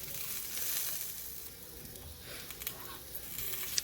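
Shrimp fry in a pan with a steady, soft sizzle and crackle that runs throughout, at moderate distance and fairly quiet, with small pops near the end and no talk.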